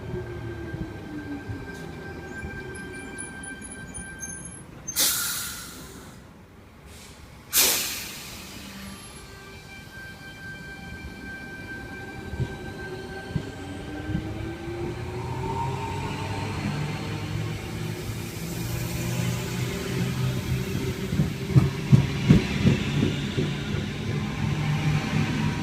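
A Sydney T68 suburban train on a Hornsby service pulls into platform 2, its broad rolling rumble and wheel noise building steadily and growing louder as it nears, with brief high tonal squeals early on and no talking.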